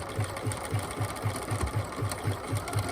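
A sewing machine back stitching elastic onto fabric after zigzag stitching runs in a steady, fast mechanical rhythm, its needle thumping in even repeated beats throughout, close and alone without talk.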